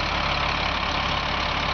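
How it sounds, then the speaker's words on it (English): A tandem axle grain truck's engine idles close up with a steady, even rumble that holds throughout, with no talk over it. "We'll get up close so you can hear how this engine just purrs."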